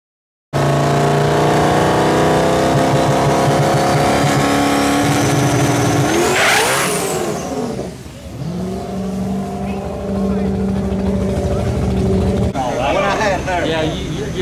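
Close, loud engine of a Cobra race car at an outlaw drag race and test-and-tune session, with a steady idle that rises into a sharp rev and falls away, then rumbles on as people talk over it.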